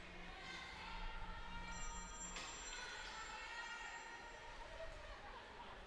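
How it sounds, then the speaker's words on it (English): An old-school telephone ringtone rings in press row at a 2020 girls' U19 hockey tournament, a bright repeating ring heard under arena crowd chatter and a commentator's voice. "Phone was ringing here in press row."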